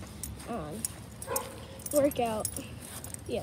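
A dog barks outdoors beside a wooded area during a run and walk, with a few short barks mixed in under a person talking nearby.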